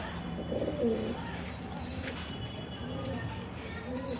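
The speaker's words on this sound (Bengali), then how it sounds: "দেখো এটা মেল বাচ্চা হয়েছে, দেখো অল্প অল্প ডাকছে।" A baby bird, a young male chick, calls softly with faint, intermittent cooing notes over a steady low background hum.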